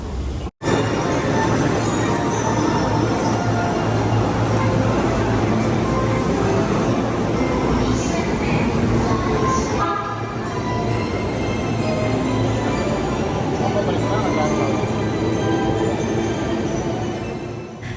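Rumbling ride aboard a long JR Keio Line train in Tokyo, with steady wheel and rail noise, car vibration and faint squeals running continuously at close range, no talk.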